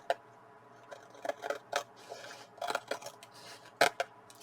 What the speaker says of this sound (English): I'm just going to do that carefully with my scissors